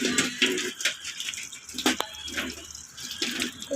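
A metal chain being washed under running tap water, with splashing and trickling in uneven bursts close by, occasional clinks and drips, and no talk.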